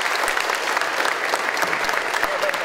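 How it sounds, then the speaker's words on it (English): Dense, sustained applause fills a room at a university students' union enterprise awards dinner, a crowd clapping continuously with murmured voices underneath. "Round of applause, please."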